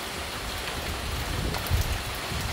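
Rain falling steadily across a rice farm during a stormy morning, a dense, even hiss of drops with gusty wind rumbling underneath, with no voices.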